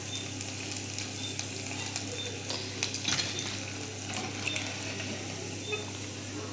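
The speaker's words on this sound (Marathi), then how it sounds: "असे सगळे वडे आपण तळून घेऊया" Sabudana vadas frying in hot oil give off a steady, even sizzle that runs the whole way through, with a few faint clicks and clatters on top and no talking.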